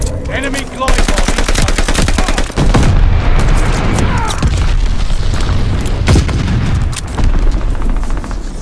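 Loud, dense gunfire and booming grenade explosions in a Call of Duty Vanguard online match, with rapid bursts and heavy blasts overlapping almost without pause.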